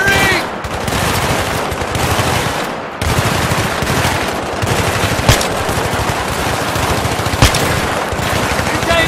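Machine gun fire in Battlefield 3, a loud, continuous stream of rapid shots with a brief pause partway, close and dense, with a couple of sharper single cracks standing out.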